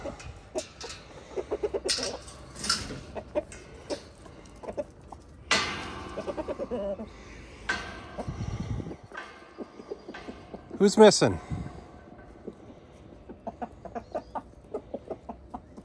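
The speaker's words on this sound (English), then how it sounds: "Good evening, chickens. Gonna let you all out." Chickens cluck and squawk in bursts as they are let out of their coop in the evening, scattered calls near and far with a person speaking between them.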